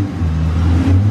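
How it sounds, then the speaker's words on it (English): Chevrolet C7 Corvette engine revving as the car is driven out, a loud, close, deep throaty rumble that swells briefly and holds steady. "So he's moving out the C7 Corvette."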